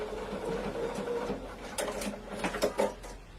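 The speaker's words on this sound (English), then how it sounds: "let me just pop on a finishing stitch" A sewing machine runs a short finishing stitch in a studio, its soft steady mechanical hum broken by a few quick clicks and rattles near the end.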